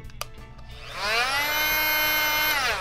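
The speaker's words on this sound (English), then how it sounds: "I'm talking about this kind of a multi-tool." After a few soft taps, a Fein MultiMaster oscillating multi-tool starts up with a loud, tight, buzzing whine. It holds steady for almost two seconds, then winds down.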